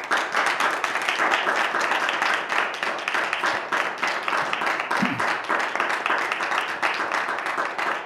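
Steady, dense applause from an audience fills the whole stretch, many hands clapping at an even loudness without pause.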